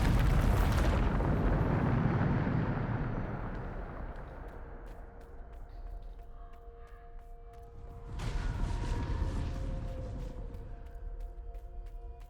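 A Bombarda spell explosion in Hogwarts Legacy erupts loudly at the start and rumbles away, followed by a second softer blast and scattered crackling debris, with no talking.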